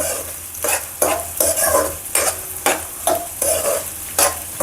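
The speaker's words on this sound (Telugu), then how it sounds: "ఆనియన్స్ వేయించేసుకుందామండి" Onions frying on high flame in a pan for a chicken curry, with loud bursts of sizzle and repeated stirring scrapes every half second or so, close up and with no talk.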